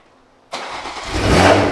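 BMW M340 on its stock exhaust cranking after a moment of near silence, catching within a second and rising into a loud, full idle flare close by, with no talk over it.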